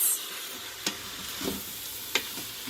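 Meat sauce with Worcestershire and red wine simmers and sizzles softly in an Instant Pot, with a couple of distinct spoon taps and scrapes as it is stirred.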